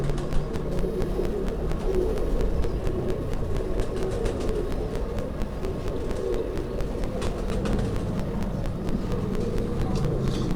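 Pigeons, low-flying fancy birds of a record-holding loft, give soft intermittent coos within a continuous busy background of rustling and movement, with some nearby chatter.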